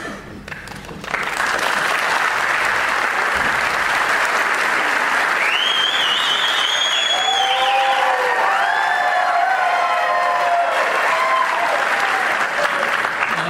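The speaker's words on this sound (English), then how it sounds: "the moderator asked not to applaud" Sustained, dense applause from an audience at a public debate forum, swelling quickly and continuing steadily with a few faint cheers and whistles.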